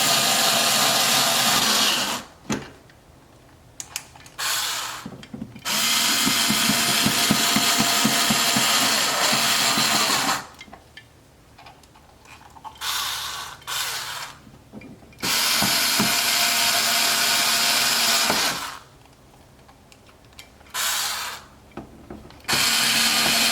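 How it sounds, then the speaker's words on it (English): Power screwdriver tightens headlight and fender-well screws on a C6 Corvette, loud whirring bursts of a few seconds each separated by quiet pauses, three main runs. "we'll get our screwdriver, and we'll tighten these up."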